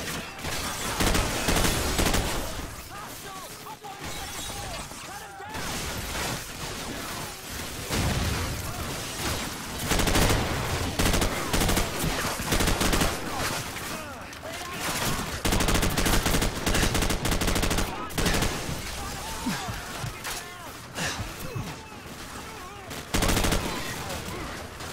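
Video game gunfire in Call of Duty 4: Modern Warfare, dense, continuous bursts of rifle and machine-gun shots with booming impacts, loud and sustained throughout with no pauses.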